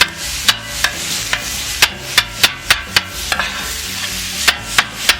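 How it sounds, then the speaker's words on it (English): Sharp metallic clacks of a spatula chopping teriyaki cheesesteak meat on a griddle, repeated in an uneven rhythm over a steady sizzle. "spatula here and just chop it up a little bit, separate it"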